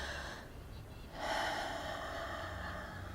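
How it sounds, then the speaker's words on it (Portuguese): Slow, deep human breathing close to the microphone, a long soft inhale followed by a fuller, louder exhale over a faint steady background hiss. "respiro lentamente, profundamente."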